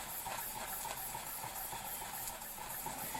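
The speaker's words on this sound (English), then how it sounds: "Simco Watt.Junior under steam." A SIM Co. Watt Junior model steam engine running under steam, a steady soft hiss with a faint rapid rhythmic chuff repeating throughout, no voices.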